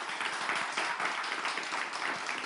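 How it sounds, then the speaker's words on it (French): Faint, steady applause from a crowd, continuous clapping heard at a distance. "On les applaudit."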